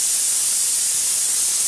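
A pressure cooker vents steam in a steady, loud, unbroken hiss that fills the whole stretch without pause.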